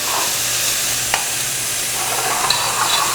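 Lentils being stirred in a pot of water with a spoon, a steady broadband scraping and swishing with a low hum underneath, one brief clink partway through, close and fairly loud, no talking.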